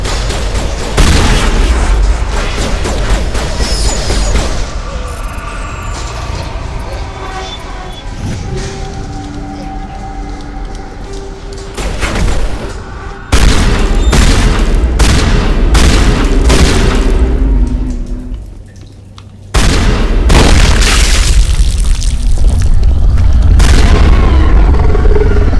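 Shotgun blasts in Mass Effect 1 Legendary Edition, heavy booming shots amid loud continuous combat noise and rumbling effects, with a brief quieter lull before the fighting resumes.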